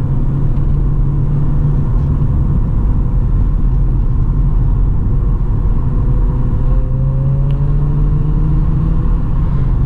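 A Lada Priora's engine sounds during a street race run as a loud, steady, low rumble with a faint rising whine near the end. There is no talk.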